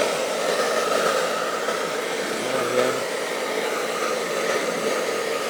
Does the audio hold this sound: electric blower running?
yes